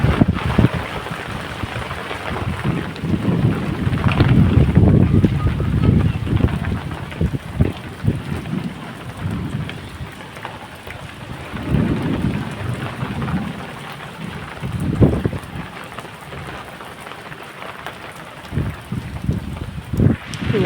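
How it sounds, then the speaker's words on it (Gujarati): Steady wind and rain storm roar continuously, with loud low rumbling gusts and bursts of rain that rise and fall, near and enveloping, with no voices. "પવન ને વરસાદ બધું એટલું છે."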